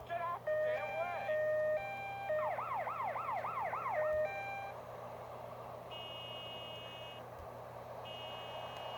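A toy or game ambulance siren wails in rapid electronic up-down sweeps between shorter beeping tones, loud and close, then fades into a steady hum with faint intermittent beeps.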